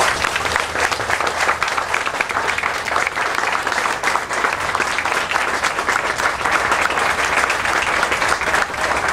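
Audience applause at a ceremony for peace flags aboard Argentine frigates: a dense, steady clapping that continues unbroken for the whole stretch, loud and close, with no pauses.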